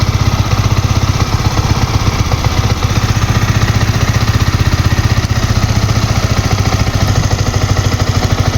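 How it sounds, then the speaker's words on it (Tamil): Motorcycle engine running and overheating with no coolant, a steady close, loud idle with a fast even mechanical putter throughout, no voices. "எனக்கு வண்டி ஸ்டார்ட் பண்ணி 10 செகண்டு தான் ஆகுது, ஓவர் ஹீட் ஆகுது பாருங்கள்."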